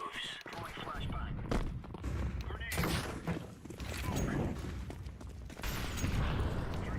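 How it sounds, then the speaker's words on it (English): Gunfire and a thrown flashbang in a Counter-Strike 2 match, dense overlapping shots and bursts throughout, loud and busy, with a person talking over the action. "Throwing flashbang."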